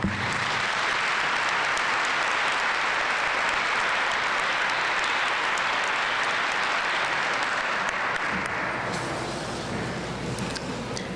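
A lecture audience gives Dr. Marleen Wong a welcoming round of sustained, loud applause, clapping evenly before easing off slightly at the end.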